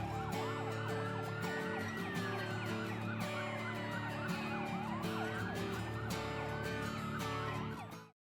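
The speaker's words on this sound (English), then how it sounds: "we've got some police motorcycles been making some noise and everything" Police motorcycle sirens wail at a Fiesta Days grand parade, several overlapping rising and falling tones sweeping continuously and loudly above steady engine rumble and crowd noise before cutting off at the end.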